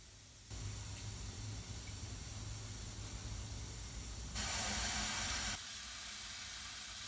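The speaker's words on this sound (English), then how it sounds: "coming out of the black pipe, getting hit by that air, and then spraying" Hissing spray from a homemade foundry oil burner nozzle testing with water and compressed air, a steady broadband rush that swells louder and brighter for about a second before settling back to a constant hiss.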